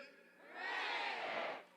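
A rugby crowd at a women's league match between Glendale Merlins and Chicago North Shore roars a loud, sustained group cheer for the officials, swelling after a quieter murmur and holding for about a second before fading.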